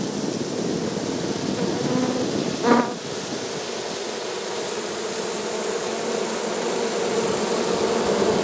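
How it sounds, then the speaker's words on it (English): Honeybees fanning their wings at night in a beeyard, a steady broadband hum and hiss that fills the whole stretch, with a brief louder buzz of a single bee passing close. "could you notice the bees fanning their wings at the"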